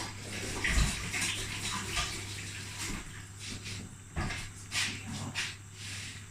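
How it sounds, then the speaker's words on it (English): Tap water running into a sink during handwashing in a kitchen, a faint, steady splash and trickle with a few brief knocks and shifts in the flow. "So I'm just going to wash my hands"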